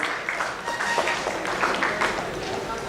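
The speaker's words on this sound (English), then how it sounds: "A round of applause." Audience applause at an annual medical scientific conference as moderators are felicitated on the dais, a steady wash of clapping from a crowd with voices mixed in throughout.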